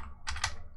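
Typing a search on a computer keyboard, a quick run of three close key clicks in under a second, crisp and nearby with no talking.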